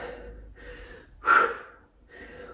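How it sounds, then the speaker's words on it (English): Forceful, noisy breaths exhaled during a yoga HIIT workout, a few separate puffs with one sharper, louder burst in the middle, close and alone with no talk. "Nice noisy exhales."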